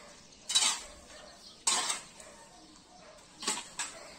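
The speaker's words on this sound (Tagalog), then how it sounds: "haluin lang po mabuti para mag-equal yung mixture nila ng lupa at saka ipa" Soil and rice hulls being stirred together for potting bougainvillea seedlings, heard as three separate bursts of gritty scraping and rustling with quiet pauses between them.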